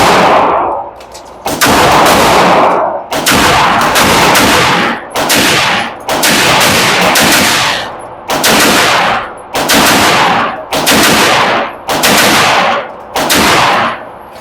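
Shots from a Great Lakes Synergy pistol fired at a range ring out loud and close, roughly eight sharp reports evenly spaced with short pauses between them.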